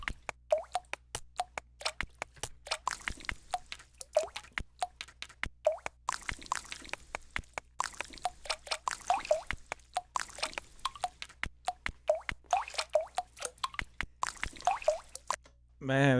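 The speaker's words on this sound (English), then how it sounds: "Something's dripping, man. It's dripping in here. We sprung a leak." Water drips from a leak in a room, an irregular run of close plops and drops that taps steadily for several seconds, with soft splashy wet noise between the drips.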